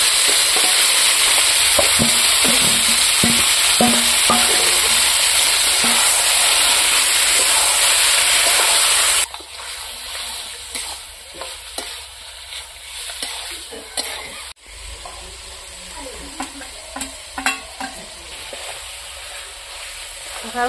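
Marinated goat meat with fried onions sizzles loudly in hot oil, a steady bright crackle for the first half, then drops to softer, intermittent frying and stirring clatter.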